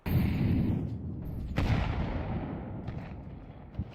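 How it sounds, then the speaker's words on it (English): A grenade detonates in a competitive video game match with a loud, immediate boom that rumbles and slowly decays over a few seconds, followed by a small thud near the end. "Big nade."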